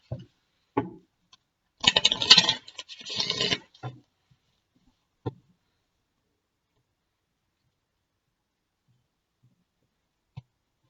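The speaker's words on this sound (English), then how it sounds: "One more shuffle, and then I'll cut." Tarot cards being shuffled: a few quick riffling bursts, soft and close, separated by light taps and pauses, with long stretches of near silence.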